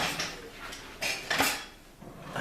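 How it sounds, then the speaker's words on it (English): Cutlery and dishes clatter and clink while someone rummages for a clean knife and fork in a kitchen, with several sharp metallic bursts and rattles over about two seconds, close and moderately loud, no talking. "Now I need to go get a knife and fork, a clean one."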